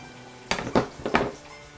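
Daikon radish run across a mandolin slicer in a kitchen, three or four quick crisp scraping swipes close up, no talk.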